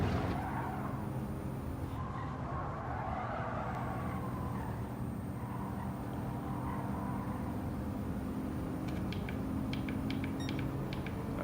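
Gran Turismo 7 racing game audio of a car driving, a steady continuous engine drone with tyre noise and brief skid-like squeals near the end, moderately loud throughout with no speech.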